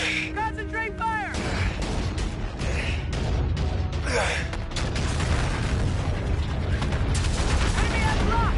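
Heavy ship guns fire in a Call of Duty: Infinite Warfare space battle, rumbling booms and dense shooting sounding continuously beneath shouted voices and radio-style callouts.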